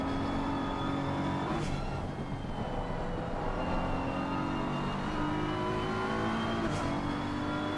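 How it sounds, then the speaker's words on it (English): BMW race car at the Nürburgring circuit, its engine droning steadily and loudly with pitch dropping through downshifts and rising again, two sharp surges standing out near the start and the end. "He's really muscling this BMW around the Nürburgring circuit."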